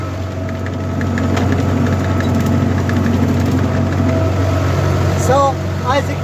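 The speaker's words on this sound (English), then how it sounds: "that's why I lowered down the topper, so it cuts the grass down way lower to the ground" A tractor runs a PTO-driven topper mower through grazed fields of rushes and lumpy grass, blade set low to the ground, giving a steady, close engine drone under continuous talk, with a couple of brief higher whines near the end.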